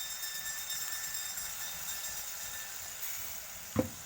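Pumpkin leaves fry in a pan with a steady, close sizzling hiss, and a short clank of a utensil sounds near the end.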